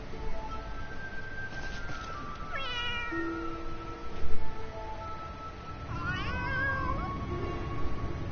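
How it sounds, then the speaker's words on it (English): A Quirl kitten in Final Fantasy XIV meows twice, with rising and falling cries several seconds apart over soft game background ambience. "Oh, the Quirl kitten's back there again."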